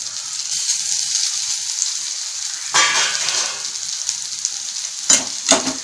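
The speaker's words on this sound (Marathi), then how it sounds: "गॅस मध्यम लावून मी कांदा भाजत ठेवला होता, मधून मधून मी हलवून घेतला झाकण काढून।" Onions roasting in a pan over a medium gas flame give a steady close sizzle, broken near the middle and twice toward the end by brief louder bursts as the onions are stirred.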